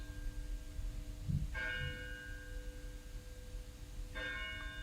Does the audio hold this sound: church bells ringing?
yes